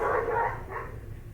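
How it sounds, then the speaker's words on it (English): Neighbouring dogs bark excitedly at some distance, a short burst of overlapping barks heard alone with no talking. "My neighbor's dogs are going crazy right now."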